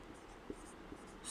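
Pen on paper writing a Hindi sentence by hand makes soft, faint scratching strokes with a few light taps in a quiet room.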